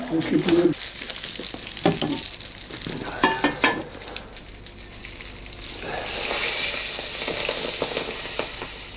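Hot fat with paprika sizzling as it is poured into a pot of Asturian pote, a close, steady hiss and crackle with bursts of stirring and splashing.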